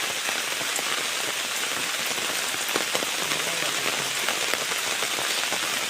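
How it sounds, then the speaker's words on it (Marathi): Heavy monsoon downpour over a tidal creek on a fishing outing, a loud, unbroken roar of rain with sharp drops striking nearby surfaces and no voices. "पाऊस बघा किती लागता तो इकडे"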